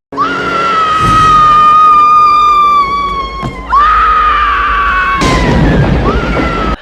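A woman screams in terror during the death scene of the original Scream horror film, two long, loud, sustained shrieks with a sharp break between them, then a burst of noisy commotion near the end.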